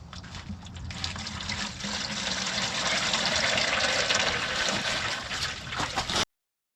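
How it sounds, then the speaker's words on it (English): Engine oil draining out of an LMTV truck's oil pan after the drain bolt is removed, a steady, fairly loud pouring and splashing stream that runs for several seconds and then stops abruptly. "I'm undoing the oil pan bolt so that I can drain all the oil"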